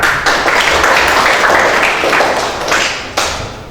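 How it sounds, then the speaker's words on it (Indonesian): A class of vocational high school students claps together in their classroom, a loud, dense burst of hand claps with a few sharper slaps standing out, holding steady for several seconds before cutting off. "Tepuk tangan."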